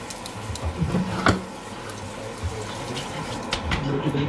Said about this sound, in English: I need to run some cold water.